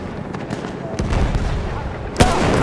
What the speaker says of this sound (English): Ein Maschinengewehr!